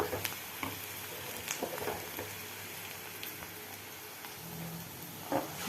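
Tomatoes sautéing in a pan for tomato chutney give a steady, close sizzle and crackle, with brief stirring scrapes now and then and no voices.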